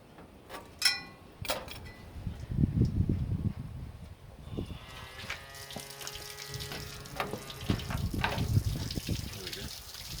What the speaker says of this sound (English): Free the hose. Here we go. We'll lose all that coolant.